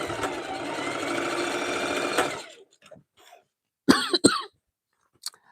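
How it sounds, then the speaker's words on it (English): A sewing machine stitching a fabric jelly roll rug hums steadily for about two seconds and stops; after a pause, two sharp coughs follow close together, then a faint click. "I'm going to cough more than normal today."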